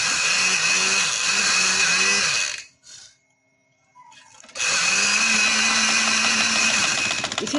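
An electric sewing machine runs fast and steady, stitching loops of fabric on a frock, stopping briefly for a second or so before starting up again at the same loud, even whir.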